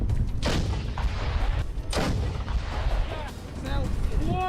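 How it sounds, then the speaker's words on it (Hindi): Ukrainian soldiers fire an M777 howitzer at Russian forces, sending out heavy booming blasts, two strong reports standing out over a dense, noisy battlefield background with faint voices. "इस वीडियो में यूक्रेनी सैनिक M777 हॉवित्जर तोप से रूसी सेना पर बमबारी करते हुए दिख रहे हैं।"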